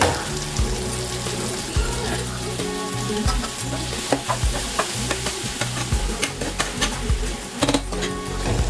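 Tomatoes going into a hot pan for majjiga pulusu, with steady close frying sizzle and repeated stirring clicks of a spoon against the pan, no voices.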